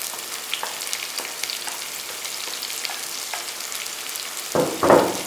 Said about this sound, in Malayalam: സവാള ഇട്ടിട്ട് നല്ലോണം ഒന്ന് വഴറ്റിയെടുക്കണം നമുക്ക്